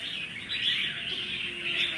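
Two red-whiskered bulbuls from Laos sing in bright, warbling phrases that rise and fall continuously at moderate volume, close to the recorder, with no talking.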